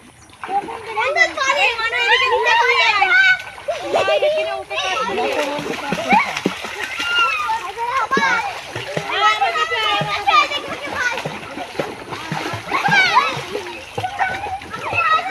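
Children splash water noisily near a bathing ghat while learning to swim, steady splattering throughout, with children laughing and talking and an adult voice speaking over the splashes.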